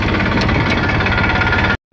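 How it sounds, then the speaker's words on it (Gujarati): A tractor engine chugs steadily up close, a loud low rumble with a rough vibrating throb, cutting off abruptly at the end. "અત્યારે ટ્રેક્ટર આવેલો જાય છે જોઈ શકો છો"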